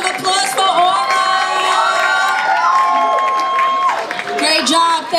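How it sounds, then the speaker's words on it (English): Crowd at a street festival talent contest cheering and whooping, with high shouted voices and some applause rising and falling throughout. "Let's give a round of applause for Aura."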